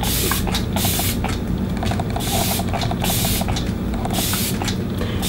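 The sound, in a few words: Kat Von D setting spray being sprayed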